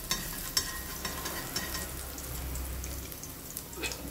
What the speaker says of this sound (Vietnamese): Mình cho tỏi băm vào rồi mình đảo đều nha các bạn.